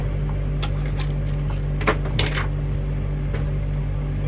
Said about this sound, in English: I drop my scissors.